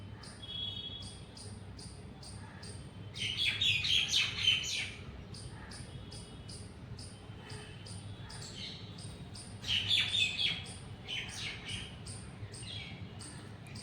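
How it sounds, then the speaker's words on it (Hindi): A myna at its nest hollow gives two loud bursts of harsh, chattering calls several seconds apart, with quieter repeated chirps running steadily between them outdoors. "ये मैना जो इसमें घुसेगी अभी अपने खो में"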